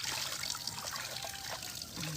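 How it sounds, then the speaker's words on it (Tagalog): Water trickling and dribbling in a village setting, a soft continuous splashing flow, close but fairly quiet, with no talk over it. "Ang sarap man pakiramdam ng tubig."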